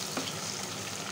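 Onion and garlic fry quietly in a pan, a soft, even sizzle heard at low level for a moment without any talk.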